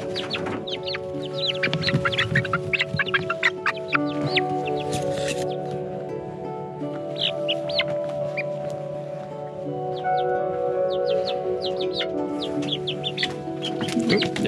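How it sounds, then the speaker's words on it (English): Six-week-old chickens cluck and chirp steadily near at hand, a busy flock with dense overlapping calls throughout and no talking. "Chicken."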